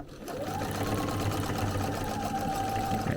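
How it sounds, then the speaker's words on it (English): A sewing machine stitches quilt pieces with a steady, close mechanical hum and rapid needle chatter running without pause, while someone talks over it. "Back stitch at the beginning, back stitch the end, lift your needle, turn it to the next line"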